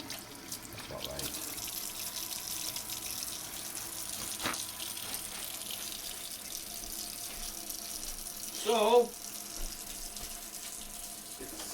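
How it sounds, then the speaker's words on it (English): Warm water runs steadily from a kitchen tap while preparing bread dough, a continuous close hiss with a brief louder splash near the end and a voice speaking faintly. "We'll kind of keep this on because it's calling for like the warm water, so I get the warm water setting."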